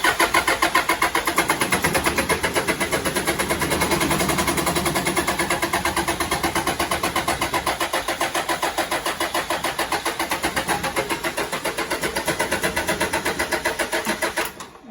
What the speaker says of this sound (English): And I'm gonna hit the starter.